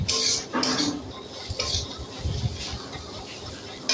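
A spatula stirring coriander powder and spices in a pan for a Bengali fish curry, with scraping and light metallic clinks of utensil on pan, close and moderately loud.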